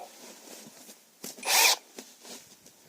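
A Procraft cordless battery saw, compared between the PKA 44 and 32 models, cuts through a thicker piece of wood: one loud, harsh burst of roughly half a second rising out of low handling noise, with no talk.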